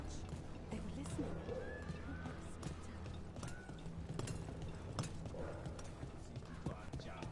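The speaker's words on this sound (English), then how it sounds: "her footstep is getting really annoying. That heavy ass metal footstep." Heavy metal-shod footsteps of a character in Dragon Age: The Veilguard clank in a steady walking rhythm, quiet and mixed with faint game ambience and low background sound.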